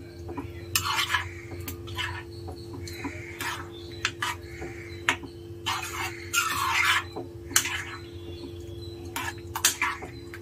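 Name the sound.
mixing bisi bele bath with masala in pot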